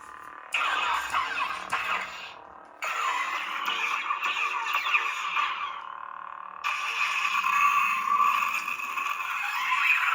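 Darth Vader DV6 neopixel lightsaber in lockup gives a loud, sustained crackling sizzle in long bursts, broken by two short drops, close and alone.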